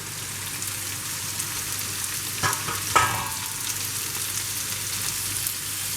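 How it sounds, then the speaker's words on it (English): Shrimp and vegetables sizzle steadily in a hot pan, with a couple of brief clatters from stirring partway through. "Ooh, just listen to that sizzle."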